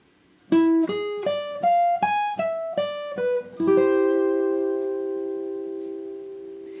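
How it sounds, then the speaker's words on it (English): A clean, unaccompanied guitar arpeggio ripples up and down an E dominant flat-nine chord, note by note, then settles into a sustained strummed chord that rings out and slowly fades. "So the E dominant would sound like this"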